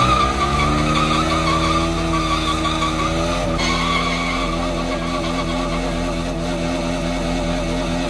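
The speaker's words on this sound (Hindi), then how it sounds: "बर्नआउट की तैयारी" A Bajaj Pulsar RS200 motorcycle fitted with a 180mm rear tyre does a burnout, its engine revving hard and loud while the rear tyre skids and squeals continuously, close by, with no talk.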